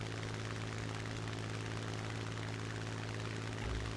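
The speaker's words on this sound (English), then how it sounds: "You can hear that Sony's engine is very loud" A loud, steady plane engine drones in a flight simulator air battle, a constant buzzing hum that holds unchanged throughout with no voices.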